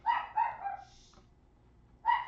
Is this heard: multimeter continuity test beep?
no